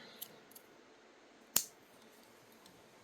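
Scissors snip through crochet yarn on a handmade dish scrubby: one crisp, close cut stands out in a quiet room, with a few faint light clicks around it.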